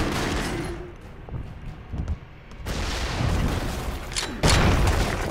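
Gunfire in the Broforce video game: bursts of rapid shots and booming blasts, loud and close, with a heavy explosion-like hit near the end.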